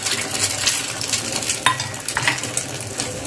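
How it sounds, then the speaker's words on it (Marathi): A mixture fries in oil in a pan with a bright, busy sizzle. Occasional metallic clinks and scrapes of a utensil cut through, with no speech. "तेलामध्ये फ्राय करून घ्या"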